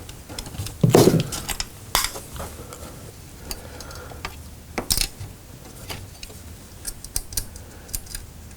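Screws being driven into a Mortal Kombat II arcade cabinet during restoration: scattered metallic clicks, ticks and ratcheting taps, with a louder clatter near the start and sparse sharp clicks afterward.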